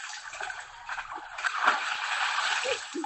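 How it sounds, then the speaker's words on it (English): Water splashing and sloshing continuously in a deep well, with irregular heavy splashes and churning as a woman thrashes about struggling to stay afloat. "We hear her splash and struggle to survive in the water."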